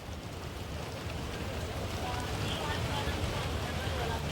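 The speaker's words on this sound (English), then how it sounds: "Sohail, there's heavy rain there in Singapore." Heavy rain pours down in Singapore during a funeral procession, a dense continuous hiss of steady downpour filling the whole stretch without pause.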